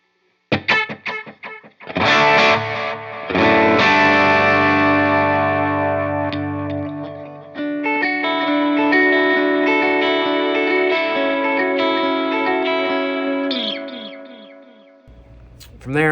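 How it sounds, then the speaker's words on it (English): Electric guitar running through a stereo dotted-eighth into eighth-note ping pong delay on an HX Stomp worship pedalboard, playing sustained chords and notes with dense repeating echoes that swell, hold loud and fade, no talking. "I use it as a dotted eighth into an eighth note just for that ping pong effect."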